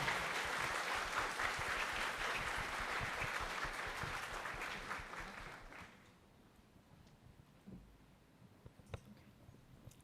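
Sustained applause from an audience at a school graduation ceremony honouring teachers and staff, dense and steady for about six seconds before fading out into a quiet hall with a few scattered claps and small noises.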